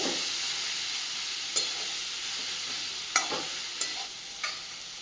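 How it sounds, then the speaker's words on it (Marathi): Grated raw Totapuri mango sautés in a pan with a steady soft sizzle, and a spatula scrapes and taps the pan four times, close by. "हा खीस सुद्धा आपल्याला थोडासा परतून घ्यायचा आहे साधारण दोन ते तीन मिनटं"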